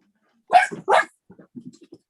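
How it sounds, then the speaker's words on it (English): A dog barks twice in quick succession at a moderate distance, followed by a few softer yips or whimpers, heard in the background during an online public commission meeting. "that was my dog barking right now"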